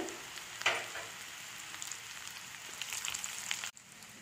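Dried round red chillies fry in hot oil for a raw mango pickle, giving a steady, moderately loud crackling sizzle with a sharp pop early on. The sound cuts off abruptly near the end.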